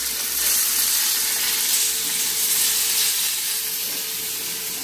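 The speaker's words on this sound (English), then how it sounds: "I'm gonna pour this water in the pan" Water hits a hot cooking pan with a loud, steady sizzle and hiss of boiling and steam lasting the whole stretch, with no talking over it.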